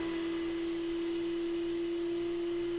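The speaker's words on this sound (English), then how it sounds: "I used my router table and a 1/8 inch roundover bit to round over all the holes I cut." A router table spinning a 1/8 inch roundover bit while rounding over holes cut in wooden bandsaw wheels, a loud, steady, high motor whine with no talk.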